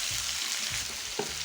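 Diced pumpkin and Malabar spinach stems hit hot oil in a pan, a loud, dense sizzle right up close, with a few soft knocks from the spoon underneath.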